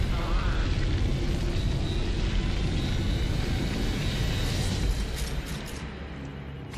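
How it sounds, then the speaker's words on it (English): A massive explosion in the video game Dead Space 2 roars as a heavy, continuous low rumble, loud and close, before easing off near the end. "The explosion is outpacing us."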